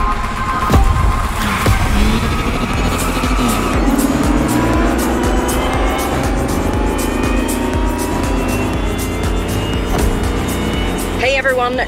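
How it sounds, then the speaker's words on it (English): Lamborghini Terzo Millennio electric hypercar driving in The Crew Motorfest, a loud continuous synthetic whine rising and shifting in pitch, with tire squeal and skidding, and a voice talking over it. "it's going to have a special sonic signature to replace the roar of the V12 engine that Lamborghini is so well known for"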